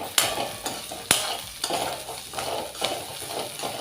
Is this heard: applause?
no